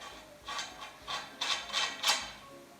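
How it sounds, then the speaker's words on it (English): A wrench ratchets a nut tight on the bottom of a display pole, giving about six quick, faint metallic clicking bursts in an uneven rhythm, close up, with no talking. "Hold pole with one hand as you tighten nut, hard as you can with the wrench."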